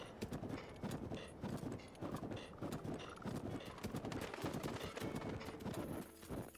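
Horse hooves clip-clop steadily in Zelda: Breath of the Wild (Nintendo Switch 2 Edition), a continuous rhythmic galloping patter layered over in-game music and ambience, loud and close throughout.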